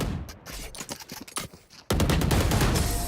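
Gunfire in the tactical shooter Valorant, including wallbang shots fired through a wall: a few seconds of sharp, rapid shots that build into loud, sustained automatic fire.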